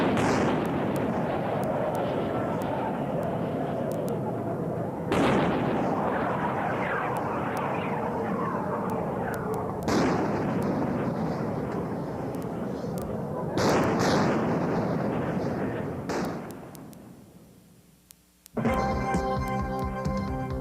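Iowa-class battleship 16-inch guns fire in repeated heavy booms, each blast followed by a long rumbling roll-off, at roughly five-second intervals, loud and close, before a quieter stretch and a burst of other noise at the end.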